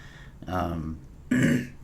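Someone clears their throat twice close to the microphone, a rough rasping sound followed by a second, louder grunt.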